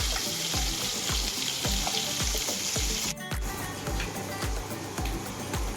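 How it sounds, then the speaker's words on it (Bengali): Koi fish frying in hot oil in a wok, heard as a steady close sizzle with repeated rhythmic thumps running through it. "এখন তেল কইয়ের জন্য কই মাছগুলো ভেজে নিচ্ছি আর কই মাছগুলো ভেজে নিচ্ছি"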